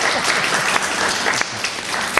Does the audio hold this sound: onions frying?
no